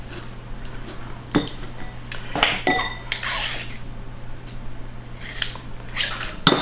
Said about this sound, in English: we're just cutting in the butter and this brown sugar